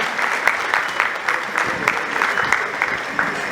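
Audience applause welcoming a guest at an award felicitation ceremony for Sonu Nigam, a steady wash of many hands clapping at moderate distance, continuous across the whole stretch with faint crowd murmur underneath.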